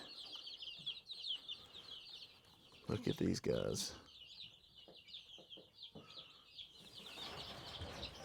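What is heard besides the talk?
turkeys on a farm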